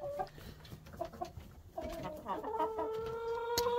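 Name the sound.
silkie chicken clucking in rooster pen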